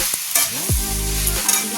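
Radish stir-frying in a pan with a tempering of dried red chillies, a loud close sizzle under the scrape of a spatula, with a tonal hum sweeping down midway and holding beneath the frying.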